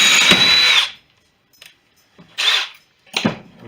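A power drill runs in short bursts while boring into deer bone for a knife, a long whine followed by two brief pulses after a pause, loud and close with no talk.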